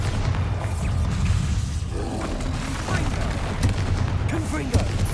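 The Bombarda blasting spell in the Hogwarts Legacy video game sets off a loud, continuous roar of booming, rumbling explosions with crackling debris and sharp hits layered on top.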